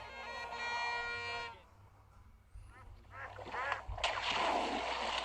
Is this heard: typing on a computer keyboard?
no